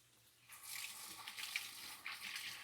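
Water runs from a kitchen sink tap, a steady hissing splash that starts abruptly and continues under faint background noise.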